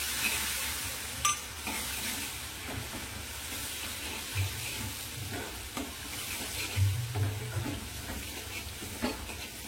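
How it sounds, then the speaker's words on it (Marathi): A mixture with finely chopped tomato is stirred and sautéed in a pan. It gives a steady, soft sizzle with occasional spoon scrapes and taps, close and fairly quiet, and no voices. "याला पण छान असं मिक्स करून घ्यायचं, परतून घ्यायचं."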